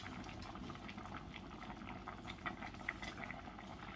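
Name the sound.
liquid boiling in a pot for chicken blanquette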